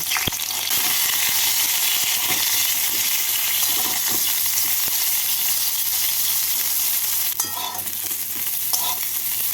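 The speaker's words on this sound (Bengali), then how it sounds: "এবার বেগুনগুলো ভেজে নেব" Eggplant pieces frying in oil crackle in a constant, loud sizzle, broken now and then by the scrape of a spatula stirring the pan.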